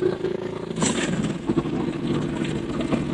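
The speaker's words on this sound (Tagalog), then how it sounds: "Ipapark lang natin tong ating motor at tatalian naman ito ng mga crew dito sa barko" Motorcycle being parked and secured on a ship's deck, a steady mid-range engine idle with a brief clattering burst near the one-second mark, continuous and fairly loud with no talk.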